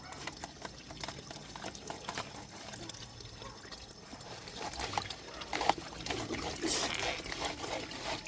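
Water from a hose flowing through a drain canal being cleaned, a faint continuous trickling and splashing with irregular louder spurts and some background noise.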